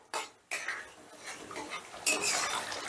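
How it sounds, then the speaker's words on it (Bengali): A spoon scrapes and clinks against a pan while yogurt and cashews are stirred into a curry, in a few short close strokes with faint sizzling between them. "এবার এই দই আর কাজুটা দিয়েও মিনিট 2-3 মতন আমি ভালো করে কষে নেব।"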